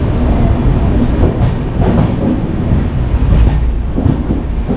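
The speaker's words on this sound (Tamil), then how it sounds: "மதுரையிலேருந்து கரெக்டாக 4:30 வந்து ட்ரெயின் வந்து கிளம்பிடுச்சு" The Pothigai Express passenger train pulls out of Madurai with a loud, steady rumble of carriages rolling on the rails and faint clickety-clack from the wheels, heard close from on board.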